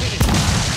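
A ship's cannon booms once at close range in the Assassin's Creed IV Black Flag naval battle, a deep thump above steady low battle rumble.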